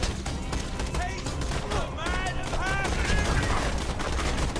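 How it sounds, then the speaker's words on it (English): Jakobs assault rifle fire from a big-magazine gun in Borderlands, a dense run of rapid, sharp shots with a voice talking over it. "This might be my favorite Jacob assault rifle because it has a big mag."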